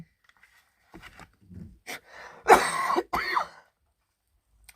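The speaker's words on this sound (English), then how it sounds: "That's smoker's cough, not COVID cough." A few rough, throaty coughs and throat-clearing bursts from one person close by, ending in a louder hacking cough, with short pauses in between.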